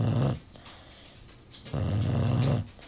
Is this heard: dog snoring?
yes